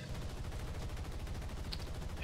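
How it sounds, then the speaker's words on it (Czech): Rapid aircraft gunfire from a ground-attack plane in the War Thunder video game, heard as a steady stream of low, thudding shots that stays fairly faint throughout. "Ještě střelba"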